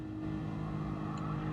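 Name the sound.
car engine sound from video game Gran Turismo Sport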